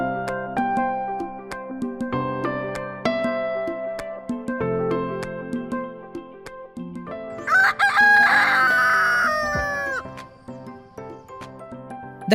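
A rooster crows once loudly and close in an open village yard in the morning, its long call rising then falling away, over a bed of music or other background sound.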